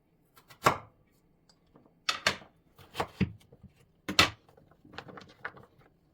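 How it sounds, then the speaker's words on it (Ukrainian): A knife chops through firm pumpkin on a board, a few sharp thuds spaced irregularly with quiet gaps between. "І нарізаємо весь гарбузик."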